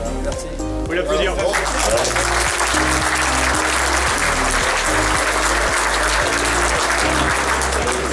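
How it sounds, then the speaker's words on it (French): Crowd applause at an outdoor motorcycle safety day in Daumeray, France, with steady clapping under loud, thumping music and talk from a voice over a PA. "Vous l'applaudir"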